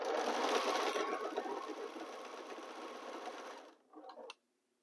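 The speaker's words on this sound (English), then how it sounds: "So let's start sewing." A sewing machine runs steadily, stitching a quarter-inch seam allowance, with a loud continuous whir for about four seconds before slowing and stopping in a brief final burst.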